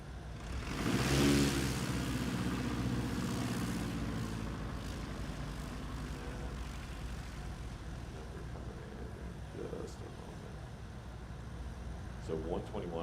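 Light STOL airplane landing during a Music City STOL competition in Gallatin, Tennessee, its engine and propeller droning close and loud at first, then settling into a steady hum, with a commentator talking over it.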